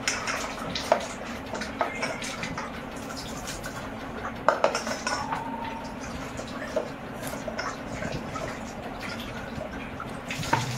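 Potatoes being rinsed in a small amount of water in a home kitchen, with steady splashing and faint clinks of a pot or bowl throughout, close and moderately loud, and a few sharper knocks along the way.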